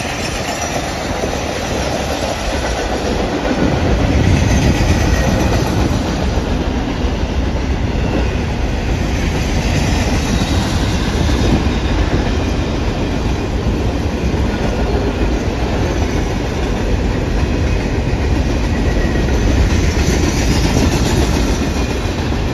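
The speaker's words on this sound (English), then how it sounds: "I heard the familiar roar of a diesel locomotive roll by on the nearby railroad tracks." A diesel-hauled train of RoadRailer semi-truck trailers riding on steel rail wheels passes nearby, a loud, continuous rumble with clickety-clack and occasional wheel squeal lasting over twenty seconds.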